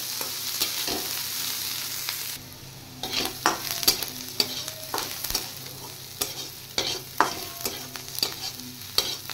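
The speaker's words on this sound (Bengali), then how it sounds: "এবার পেঁয়াজটা একটু আমি লাল করে ফ্রাই করে নেব।" Chopped onions frying in a pan for a makhana curry, a steady sizzle broken by repeated scraping and tapping of a spatula stirring, close and clear, with no speech.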